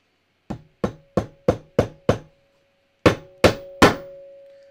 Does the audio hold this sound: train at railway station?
no